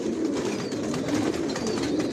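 Racing pigeons coo inside a loft, a soft continuous murmur of several birds layered together at a moderate level, with no one speaking.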